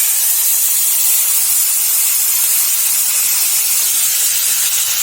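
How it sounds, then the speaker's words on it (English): Grated papaya roasting in ghee in a pan, a loud, dense, unbroken hiss like steady steam, close and constant with no pauses. "To the same pan with this amount of ghee only, we will now roast our grated papaya"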